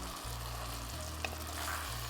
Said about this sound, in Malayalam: ഇതിലേക്ക് ഞാനിനി ഫിഷ് ആഡ് ചെയ്ത് കൊടുക്കുകയാണ്